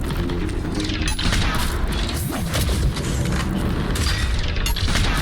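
Gunfire aimed at a harvester in Mass Effect, with dense, continuous weapon fire and booming impacts over a heavy mechanical rumble, loud and sustained throughout, with chaotic crashes layered in.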